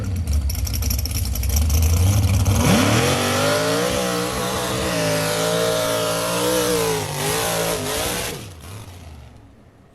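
A modified Chevrolet S10 pickup truck engine revs hard, its pitch climbing and wavering in loud sustained pulls before dropping off near the end, with no talking.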